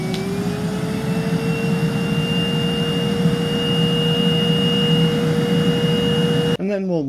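Numatic Henry NRV 200 vacuum cleaner hums steadily on its low setting, a close, even motor whir with a slight pitch rise at the start, before cutting off near the end as a voice briefly speaks.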